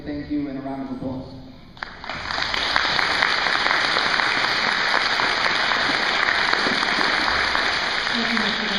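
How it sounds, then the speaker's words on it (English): A large crowd at a Veterans Day celebration breaks into sustained, loud applause honoring veterans. Brief speech comes before the clapping swells and holds steady to the end. "all deserve a big thank you and a round of applause."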